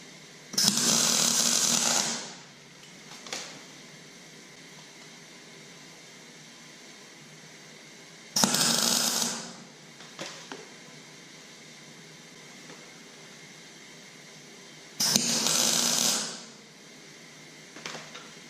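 Tack welding pipes for a turbo wastegate dump, three short, loud crackling bursts of a couple of seconds each, spaced several seconds apart with quiet gaps and faint clinks between.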